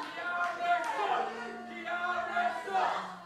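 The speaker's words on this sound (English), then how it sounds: "This crowd's disgusting." Wrestling crowd jeering at a match, a swelling chorus of voices rising and falling in waves, with loud rowdy chanting filling the short stretch.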